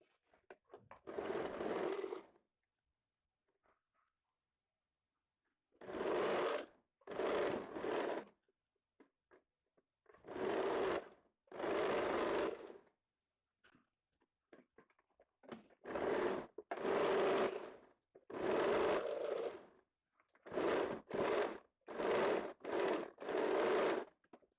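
A sewing machine stitches the hook and eye strips onto a high-neck double-layer blouse in repeated bursts of a few seconds each, separated by pauses of near silence.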